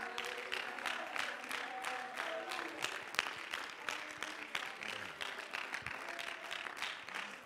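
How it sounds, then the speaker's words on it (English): A church congregation claps hands in a loose, rhythmic burst during a sermon, mid-distance and moderately loud, with scattered voices shouting underneath. "You ought to clap your hands and shout to the Lord right now."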